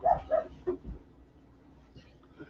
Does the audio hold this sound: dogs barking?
yes